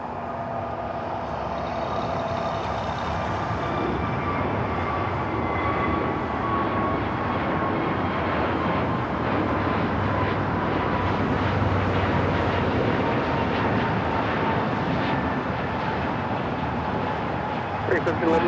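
A jet airliner takes off at Los Angeles International Airport with a sustained, loud roar that holds steady for the whole stretch, while a voice talks over it.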